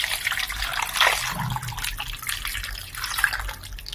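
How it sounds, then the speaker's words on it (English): Water trickles into a pot of corn on the cob with crushed ginger, a soft continuous pour with light splashing, close and fairly quiet. "I'll add some water."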